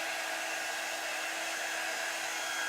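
A steady, loud hair dryer blows continuously with an even broadband whoosh and a faint whine, no voices.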